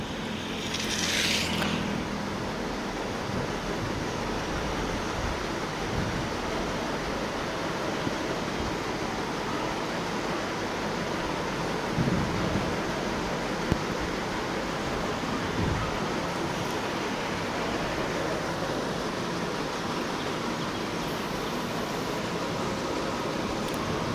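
The Bhogavati river at Uple Dumala flows high after the first monsoon rain, a dense, steady roar of rushing water that holds at an even level throughout, with no voices.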